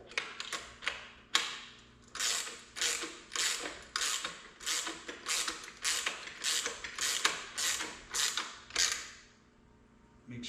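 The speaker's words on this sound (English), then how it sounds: "got the other 3/4 inch wrench. Tighten this bolt." A 3/4 inch wrench ratchets a bolt tight while a Wahoo Kickr 180 trainer is installed, giving about a dozen regular, close creaking clicks, one per stroke, that fade out near the end.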